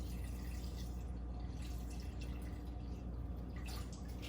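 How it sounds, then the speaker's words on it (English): One quart of beef stock pouring into a stew pot, a continuous liquid splash and trickle with small drips, close and fairly loud, no talking over it. "next you're gonna add in your 1 quart of your beef stock"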